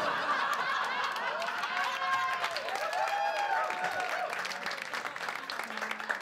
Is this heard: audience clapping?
yes